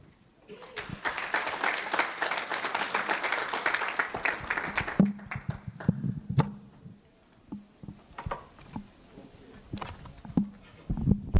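An audience gives a round of applause for Madam Carol at an AFSN project gathering: dense clapping for about five seconds, then scattered claps under a speaker's voice.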